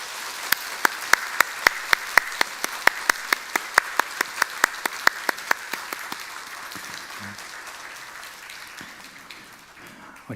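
Rhythmic, evenly spaced claps ring out from a church congregation, loud and steady at first, then fading into a softer scattered patter that trails off.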